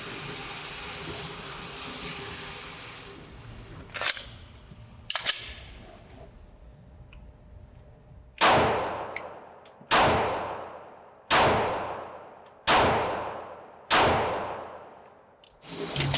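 Five sharp Glock Gen 6 pistol shots ring out at a shooting range, evenly spaced about a second and a half apart, each loud crack trailing a brief decay, preceded by quieter handling clicks.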